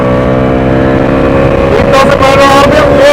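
Bajaj Dominar 400 motorcycle engine revving hard at high RPM during an on-road ride, a loud, steady, sustained engine tone with rising pitch and some wind and road rumble.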